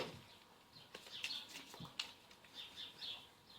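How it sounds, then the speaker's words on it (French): Small birds chirp outdoors in a quiet setting, with faint, scattered high tweets spread across a few seconds and soft background hiss. "Vous entendez les petits oiseaux?"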